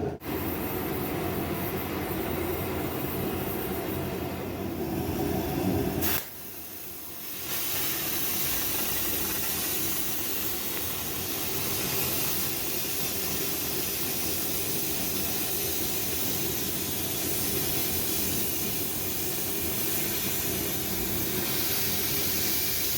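Thick steel plate being cut in increments by a machine, a loud continuous roaring hiss with a brief drop around the middle before resuming steadily, no voices.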